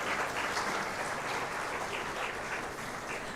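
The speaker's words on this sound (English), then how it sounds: "They deserve every bit of our applause." An audience at a Day of the Seafarer awards ceremony applauds the awardees, a steady wash of many hands clapping that holds evenly for a few seconds, moderately distant, with no voices over it.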